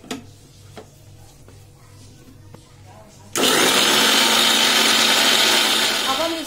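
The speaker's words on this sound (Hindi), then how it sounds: "हमने जो काजू बादाम रखे थे इसको भी हम इसमें डाल करके इसका फाइन पेस्ट बना" A kitchen blender starts abruptly and runs loud and steady, grinding cashews and almonds into a fine paste, after a few quiet clicks and taps as it is set up.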